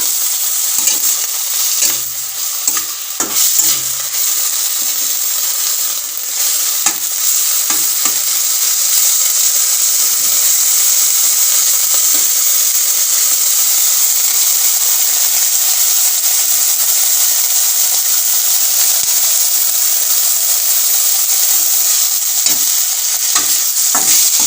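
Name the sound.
drumstick leaves (sajne shak) frying and being stirred in a pan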